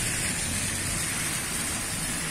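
Night rain falls steadily on a street in the Siloé district of Cali during a curfew, a constant dense hiss with low rumble beneath and no voices.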